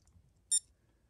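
A Casio GG-9 golf game watch gives a single short, high, faint electronic beep in otherwise near silence.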